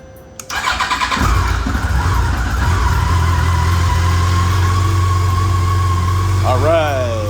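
A vehicle that sat unused for years cranks briefly, then its engine catches and settles into a loud, steady idle that runs to the end, with a short rising whine near the close.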